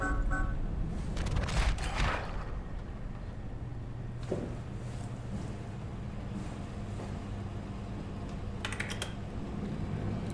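Keyboard typing in the sci-fi horror video game SOMA, quiet clusters of clicking keys at the start and again near the end, set over a low rumbling ambient drone.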